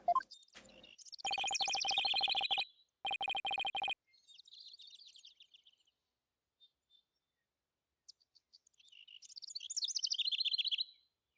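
Synthetic-sounding video game bird chirps and electronic twittering from Phoenix Wright: Ace Attorney - Spirit of Justice come in bursts, with steady tonal buzzing patterns, separated by near silence.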